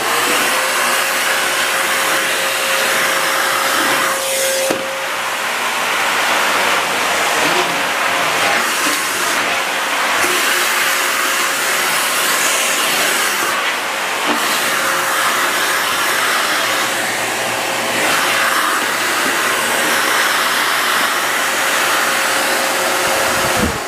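Electrolux Silent Performer vacuum cleaner running on a wood floor, a steady loud motor whoosh held throughout with slight shifts as it moves, no talking.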